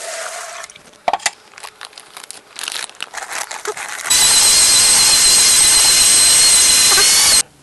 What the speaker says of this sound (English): The first thing we have to do is we got to mix some thinset.